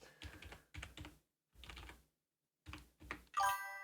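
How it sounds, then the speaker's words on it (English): Bursts of typing on a computer keyboard, fast clustered keystrokes in several short runs separated by pauses, close and fairly loud, ending in a brighter clatter. "I'm typing that out."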